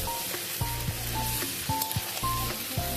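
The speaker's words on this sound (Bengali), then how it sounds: "তেল ছেড়ে গেলে এর মধ্যে ভেজে রাখা পটলটা আমরা দিয়ে দেবো" Fried pointed gourd being tossed into sizzling ginger spice paste in oil makes a soft, steady sizzle, broken by repeated rhythmic scrapes of a spatula against the pan.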